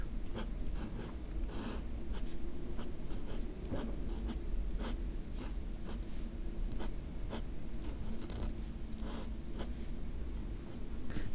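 Pen writing Korean lettering on a greeting card for the Chuseok holiday, a steady close scratching and tapping of strokes that continues for several seconds over faint room noise.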